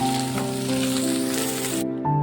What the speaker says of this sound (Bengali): ফুলকপিগুলো হালকা করে ভেজে নিয়েছি